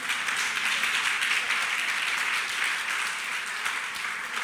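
A church congregation claps together in a dense, steady wash of applause at moderate volume, continuing without voices.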